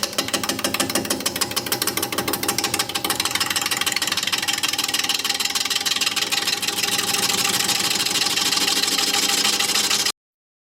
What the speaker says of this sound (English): Air compressor is loud, huh?